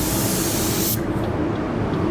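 Spray gun laying down a coat of pearl white waterborne base coat, a loud steady hiss of atomizing paint close to the microphone that cuts off partway through, leaving a lower steady booth hum.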